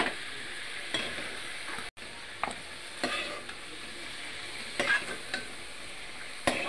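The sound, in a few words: paneer lightly frying in a pan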